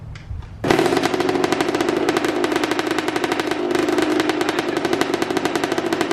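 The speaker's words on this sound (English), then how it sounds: "I'll let it just idle for a minute." A Kawasaki KX125 dirt bike engine fires up after a brief fumbling noise, then idles loudly and close by. It runs with a rapid, even, rattling pulse for the rest of the clip.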